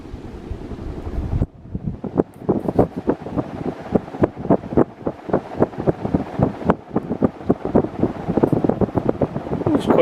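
Fasco Boca Raton 52-inch ceiling fan switched to high speed, a close, gusty rush of air with rapid rhythmic buffeting pulses against the microphone, and a voice heard briefly.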